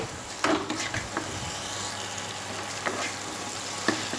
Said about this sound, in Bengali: এটা আমি আবার দু মিনিটের মতো ফ্রাই করে নেব